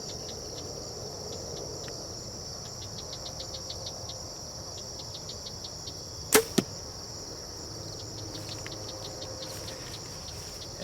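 A sharp arrow release and thwack from a bow shooting a 100-grain Magnus Stinger broadhead rises briefly out of steady outdoor insect buzzing, with a second softer hit just after.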